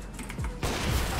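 A short, sharp volley of gunfire from a weapon in the video game CS:GO, first a few spaced shots and then a denser, continuous burst, fairly loud in the mix.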